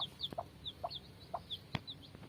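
A native-breed Thai chicken gives several short, close clucks in an irregular rhythm, with faint higher chirps from chicks in the background and no talking.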